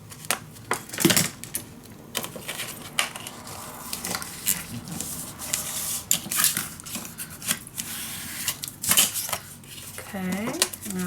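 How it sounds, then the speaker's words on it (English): Scissors snip away a paper corner while folding a pocket for a Stamperia Grand Hotel mini album, a run of short crisp cuts and paper rustles close by, with a voice talking near the end. "I'm gonna cut the corner away."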